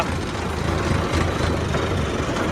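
Steady, droning rumble of a tractor-driven straw reaper running in a field, a dense continuous mechanical roar with no voices.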